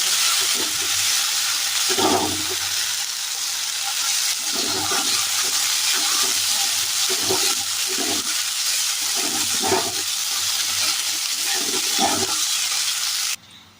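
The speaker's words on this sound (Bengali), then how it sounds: "পেঁয়াজ আর রসুনের একটা পেস্ট এর মধ্যে দিয়ে দেবো। এটাকেও আমি একটু ততক্ষণ ধরে ভেজে নেবো" Onion and garlic paste frying in a pan, a constant hiss of sizzling oil broken by bursts of stirring every second or two, close and steady before cutting off at the end.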